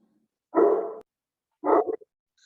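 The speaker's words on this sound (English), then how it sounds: "Dogs." Two separate loud dog barks, close by, with a short gap between them, then quiet.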